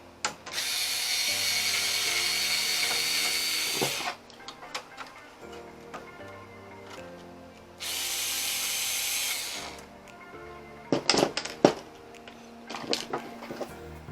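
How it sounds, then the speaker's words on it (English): Screws being backed out of the mesh panel on an iMac G3 with a power drill, heard as two long, steady whirring runs with a pause between, followed by a few sharp clicks and knocks near the end. "there's this giant like mesh thing which you also have to unscrew for some reason. So there's 2 screws down here."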